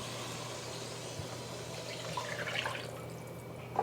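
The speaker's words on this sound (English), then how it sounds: "I'm gonna pour the liquid in first." Braising liquid pours steadily into a pan of softened onions, a continuous close, moderate liquid stream with faint drips and a small splash near the end, no talking.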